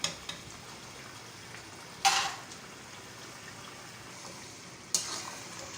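Chicken karahi, Cholistani restaurant style, sizzles and simmers in a pan with a soft steady hiss, broken by two brief louder scraping stirs against the pan.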